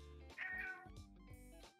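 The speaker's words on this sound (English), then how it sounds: "I agree, Salem. That's my cat." A pet cat named Salem meows several times close by, a series of short, bright, fairly clear meows with brief pauses between them.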